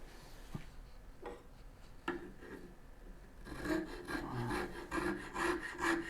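A handmade French rasp files wood in a few scattered scrapes at first, then a quicker run of rough, rhythmic rasping strokes, close and moderately quiet with no talk.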